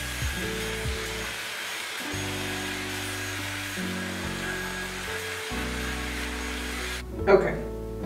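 A Dyson Airwrap blow-dries frizzy, wavy hair with a steady close whir whose pitch steps up and down as settings change, then cuts out near the end before a brief soft knock.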